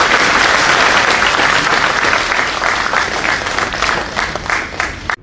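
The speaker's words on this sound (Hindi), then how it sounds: "इस शुभ कार्य के लिए आप सबकी जोरदार तालियां" Loud, dense applause from an audience at an official inauguration ceremony in Jammu and Kashmir, sustained clapping that tapers off near the end.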